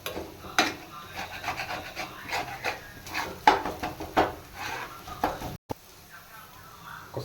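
Chili powder being stirred into an oily fish curry masala with a spoon, heard as soft rubbing and scraping against the pan in irregular strokes with occasional sharper clinks, close by, ending in a brief dropout and quieter tail.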